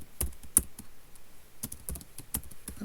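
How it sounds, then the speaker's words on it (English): Typing on a computer keyboard, a run of quick, uneven key taps with brief pauses between bursts, close and clear with no voices. "I'm typing the same thing many times"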